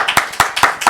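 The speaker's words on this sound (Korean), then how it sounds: "우리 남편들 박수 좀 해줘." A church congregation claps in a Sunday worship service, a quick run of sharp hand claps in an uneven rhythm, close and fairly loud, with no voices over it.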